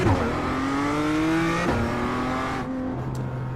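BMW M2 race car in a racing game heading onto the track with the pit limiter engaged: a loud, close engine drone climbing in pitch, a quick shift, then settling lower and steady.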